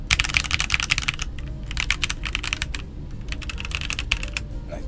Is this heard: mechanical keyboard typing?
yes